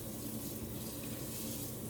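Rice poured in a circle into a jambalaya pot gives a steady, faint, even hiss and patter of grains, continuous and without pause.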